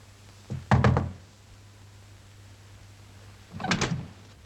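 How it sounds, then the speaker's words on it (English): Knocking on a door in a 1947 film scene: one knock pattern of a few quick raps early on, then a second cluster later, fairly close and clear over quiet room tone with a steady low hum. "I heard you knock."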